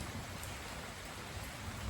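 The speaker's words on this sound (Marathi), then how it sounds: "मस्तपैकी अजून बी पाऊस येतोय. लय नाही जोर, पण थोडं टिपी टिपी टिपी टिपी येतंय" Light rain falls steadily on farmland, a faint, even hiss with no voices.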